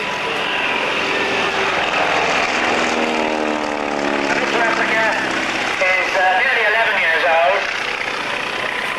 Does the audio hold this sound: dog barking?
no